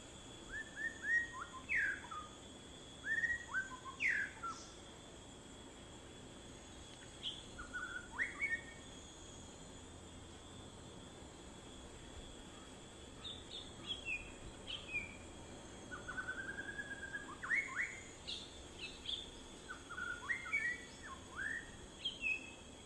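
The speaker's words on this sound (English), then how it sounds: "So shamas sing more hurriedly, while the whistling thrush will be more leisurely, calmly and slowly singing." A shama and a whistling thrush sing outdoors, with clear whistled phrases and occasional short trills repeating every few seconds at moderate distance over a faint steady hiss and insect hum.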